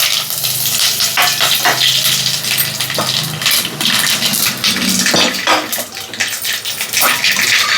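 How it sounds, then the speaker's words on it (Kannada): Cumin, dried red chillies and curry leaves sizzle in hot oil as a tempering for Karnataka-style dal with amaranth greens, giving a loud, continuous crackling hiss with sharp spitting pops. "ಇವಾಗ ಅದನ್ನು ಒಗ್ಗರಣೆ ಕೊಟ್ಕೊತಾ ಇದ್ದೀನಿ."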